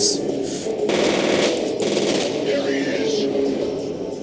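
Rapid automatic gunfire in the video game F.E.A.R. rattles in sustained bursts, loud and continuous, with a sharp electronic game-like quality and no talking.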